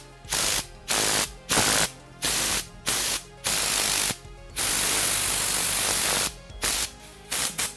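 A Tornador car detailing air blaster sprays in loud, hissing compressed-air bursts. They come in about a dozen short blasts and one longer sustained burst, broken by abrupt silences, with no talking.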